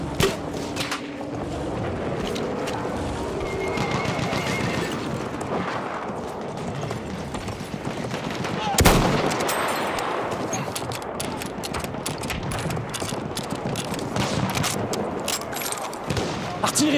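Machine gun and rifle fire on a Battlefield 1 World War I battlefield, with the Lebel Model 1886 rifle featured: dense overlapping gunfire bursts and sharp cracks, loud and continuous, with a heavy blast midway and soldiers' voices calling out in French.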